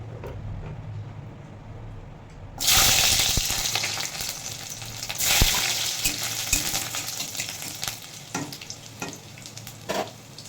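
Garlic pieces drop into hot oil in a wok and erupt into a loud, close sizzle that holds steady as it fries, with faint stirring scrapes. Quiet background comes before the sudden burst.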